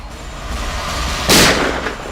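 A single gunshot in a Hindi TV crime drama rings out as a loud, close burst with a short decaying tail over a low steady background hum.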